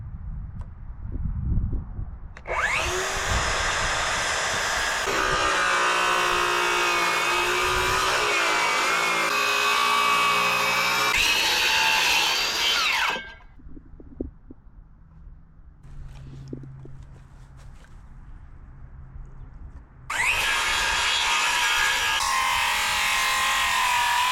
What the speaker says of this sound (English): my circular saw. I'm just gonna shave like a 1/4 of an inch on this side and this side.